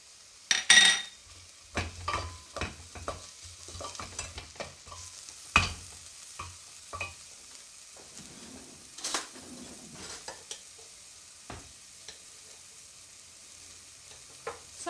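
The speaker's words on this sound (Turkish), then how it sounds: "Soğan iyice sotelendikten sonra kavrulduktan sonra sarımsağı atıyoruz." Onion and garlic sauté in a pan under frequent stirring, with a low, soft sizzle beneath sharp scraping and clinking of a utensil against the pan, close and irregular, with no talking.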